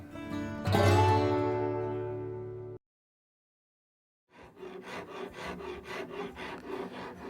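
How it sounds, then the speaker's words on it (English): An Auriou 12-inch cabinet maker's rasp, number 10 grain, shapes wood, first with a loud ringing rasp scrape that fades out, then after a pause a steady series of quick rhythmic rasping strokes close up. "Shaping is what I do, and an Auriou Rasp is just the perfect tool. This is a 12-inch cabinet maker's rasp, and it's a number 10 grain."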